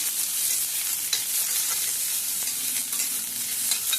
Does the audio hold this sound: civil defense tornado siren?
no